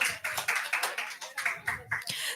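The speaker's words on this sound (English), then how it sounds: "Please have a huge round of applause for all the speakers over here." Audience applause at a book launch event honoring a poet, a steady wash of many hands clapping with rhythmic swells, moderately loud and close, with faint voices mixed underneath.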